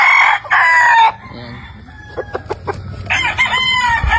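An Allen Roundhead rooster crows loudly and close by, two bursts in quick succession, followed by softer clucks and faint farmyard sounds.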